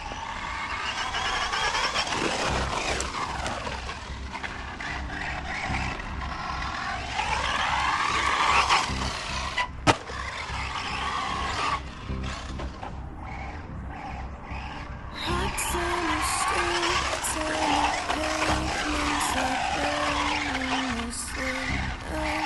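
Team Corally Syncro 2WD 1/8 scale 4S RC buggy running outdoors, its electric motor whining up and down in repeated passes, with tire scrabbling and a sharp knock midway, fairly loud with no talking.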